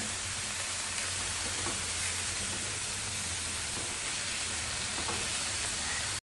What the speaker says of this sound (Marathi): आता खिसून घेतलेला दुधी घालूया. फोडणीवरती आपल्याला छान 2 मिनिटं चांगला परतवून घ्यायचा आहे.